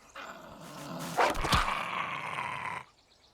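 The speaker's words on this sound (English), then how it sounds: "These short-haired dog things are a nuisance." Short-haired dog creatures in the survival game Fountain of Youth growl and bark in a loud, rough burst lasting a few seconds, with sharp peaks in the middle, then fall silent.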